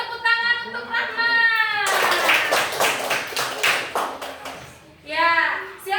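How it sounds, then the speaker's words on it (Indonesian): Children in a classroom clap for a classmate in a brief burst of rhythmic, fairly close hand claps, with a voice speaking before and after the clapping. "Beri tepuk tangan untuk Rahma."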